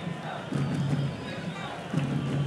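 Football supporters at the Altos versus Parnahyba Piauí state final fill the stadium with a steady crowd roar, swelling into louder rhythmic chanting bursts around the middle and end.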